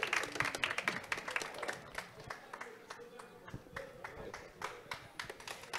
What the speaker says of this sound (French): Alors, oui, des applaudissements, s'il vous plaît.